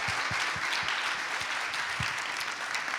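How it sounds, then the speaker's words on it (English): A room full of people applauds coach Jesse Marsch at a sports summit, a steady dense wash of clapping that holds evenly for about three seconds with a few low thumps underneath. "A round of applause for Jesse"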